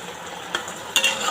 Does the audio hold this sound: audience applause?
no